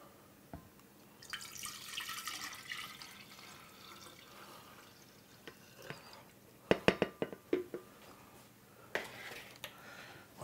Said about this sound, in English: Once you've strained the blender, pour it in here.